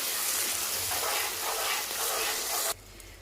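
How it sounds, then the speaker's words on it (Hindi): Masala fried with ginger and garlic in a pan for mutton kofta salan, giving a steady loud sizzle up close that cuts off near the end. "अब डाल के इसकी भुनाई अच्छी तरह से कर लीजिए।"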